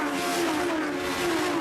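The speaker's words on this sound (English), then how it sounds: "Superb sound these Yamaha engines make." Legends race cars with Yamaha engines racing at the Snetterton circuit: a steady, sustained engine drone holds loud and unbroken throughout, with no voices.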